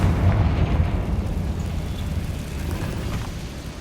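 A Confringo fire spell detonating in Hogwarts Legacy gameplay, a deep rumbling explosion that fades into a steady low roar, loud and with no voices.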